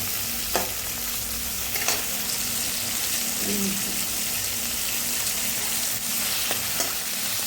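Chopped tomato and onion sauté lightly in a pan for a wedding-style tiffin sambar, giving a steady close sizzle throughout with a few sharp clicks of stirring.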